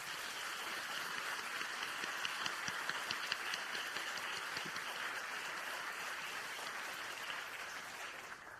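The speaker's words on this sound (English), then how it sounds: "Let's give them all a round of applause." Gala audience at the 2022 Atlantic Book Awards applauds award winners in a long, even round of clapping heard from a distance, steady throughout and fading slightly at the end.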